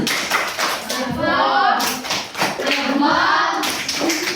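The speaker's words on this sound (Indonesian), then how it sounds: "kita kasih apresiasi tepuk bagus" Classroom applause from students after a group presentation in an Indonesian language lesson, a short burst of clapping mixed with children's voices and chatter.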